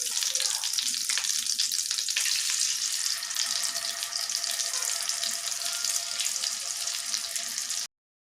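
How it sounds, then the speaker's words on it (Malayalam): Chicken pieces frying in melted butter in a pan, a loud, steady hiss and crackle of sizzling that runs continuously for about eight seconds before cutting off abruptly. "പീസസ് ഫ്രൈ ചെയ്യാനായിട്ട് വെച്ചു."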